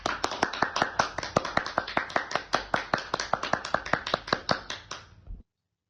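Students in a classroom clap their hands for a classmate, a steady run of about twenty sharp, evenly spaced claps that stops abruptly after roughly five seconds.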